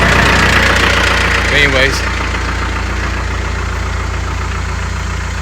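An engine on a driveway repair job runs at a steady idle, a continuous mid-to-low rumble with slight knocking, while someone speaks briefly over it at the start.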